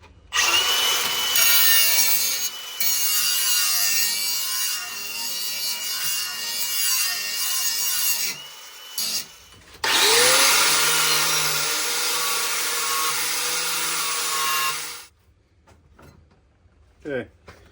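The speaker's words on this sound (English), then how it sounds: "I got it ground down, and there's a bevel all along that edge." An angle grinder bevels the edge of an old steel bed frame in loud, sustained bursts, one long pass with a pitch shift as it spins up, then cuts off to near silence; talk sits under the first stretch.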